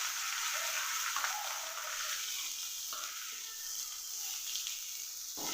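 Ivy gourd leaves and curry leaves sizzle steadily in a hot pan for a thoran, a dense continuous frying hiss with a few brief stirring clatters, close and alone.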